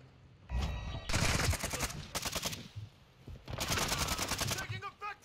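Bursts of rapid automatic gunfire in a squad shooter video game, several loud sustained volleys with short gaps, while players talk over them.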